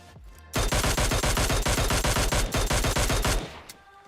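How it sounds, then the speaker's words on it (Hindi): Sustained automatic gunfire in the PUBG Mobile battle-royale game, a rapid, loud burst of evenly spaced shots lasting about three seconds, then a short fading tail, with no talking. "अब यहाँ पर आकर मैं थोड़ी बहुत बोट फायरिंग करता हूँ"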